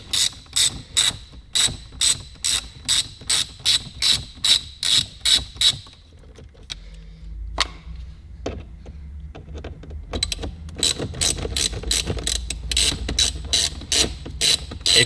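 A ratchet tool clicks rapidly in quick bursts while removing screws from the screen trim of a VW Golf Mk6 R, then a quiet gap with a few handling knocks before the fast ratcheting resumes.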